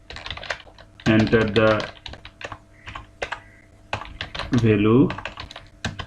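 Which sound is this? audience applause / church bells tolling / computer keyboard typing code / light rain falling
computer keyboard typing code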